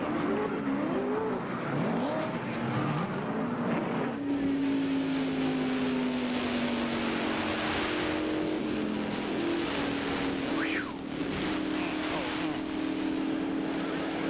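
ARCA stock cars roar around a racetrack during a multi-car crash, several spinning down to the bottom of the banking into the grass; a loud, continuous engine drone with a rising pitch sweep as a car revs past, commentators talking over it.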